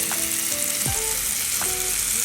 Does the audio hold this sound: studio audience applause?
no